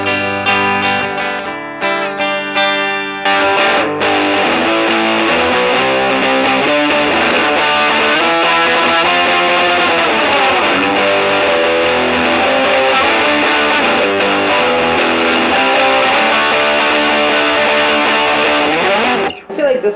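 A heavily distorted electric guitar plays continuously and loud, thick sustained chords ringing with a gritty, saturated tone.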